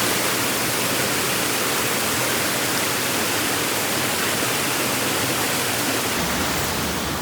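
A waterfall near an abandoned French mine roars as a constant close, loud rush of water that fills the whole clip with no other sound.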